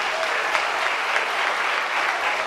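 A church congregation applauding, a loud continuous wash of many hands clapping together without pause for a couple of seconds.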